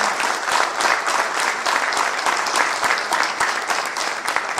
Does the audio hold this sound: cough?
no